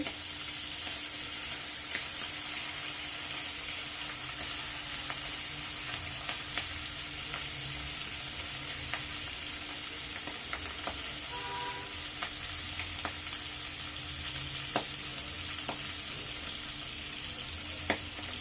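Shrimp fry in hot oil in a pan, giving a steady, close sizzle with scattered sharp pops and crackles throughout and no talking.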